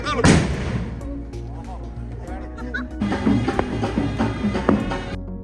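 Firecracker bangs go off in a sharp cluster at a church feast in Chalakudy, Kerala, mixed with people laughing and chattering nearby.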